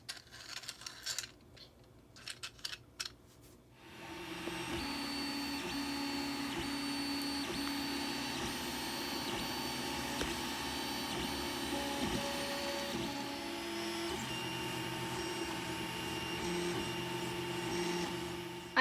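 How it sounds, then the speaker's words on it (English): A 3D printer printing a Do Nothing Grinder gadget hums steadily with continuous motor whine and faint clicks, after a few brief rustling knocks at the start. "So I decided to 3D print this gadget that's called the Do Nothing Grinder."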